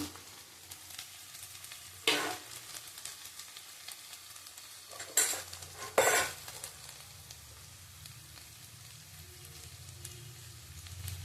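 Ripe tomatoes go into a hot pan and hiss loudly in sharp bursts as they land and are stirred, then settle into a soft, quiet sizzle.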